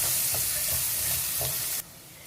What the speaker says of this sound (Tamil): இந்த பூண்டு வெங்காயம் எல்லாமே கொஞ்சம் நல்லா வதங்கி இந்த வாசம் வர அளவுக்கு நல்லா வெங்காயம் நல்லா ப்ரௌனாகவே வதங்கணும்.